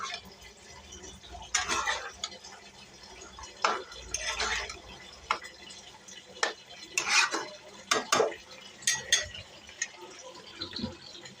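A spoon scrapes and stirs chicken biryani masala sautéing in a pot, with repeated soft clinks and scrapes in an irregular rhythm and a faint sizzle beneath, quiet and close.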